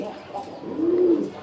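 A red-and-white Rajgolla pigeon gives a single soft, rounded coo close by, rising and falling over about half a second, over faint background noise.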